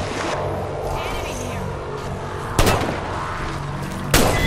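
Gunfire in the battle-royale game Apex Legends: two heavy, booming shots land a second and a half apart over a low rumble, with players talking over the action.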